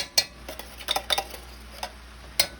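A small spoon clinks and scrapes against a container while digging out Sloppy Joe filling, giving a string of light, close taps and scrapes with short pauses between them.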